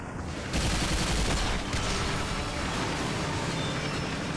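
Gunfire in the shooter video game Bulletstorm, a loud dense burst of shots and booming impacts that fades into a sustained noisy rumble.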